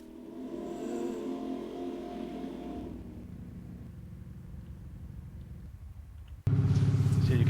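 Video game car engine heard from the interior camera view: a muffled, steady mid-low rumble that thins slightly, then jumps abruptly to a louder, harsher drone near the end.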